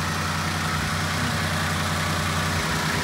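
A 2006 Toyota Avanza G with its VVTi engine idles steadily in a low-mileage manual car, producing a smooth, even hum throughout with no speech over it.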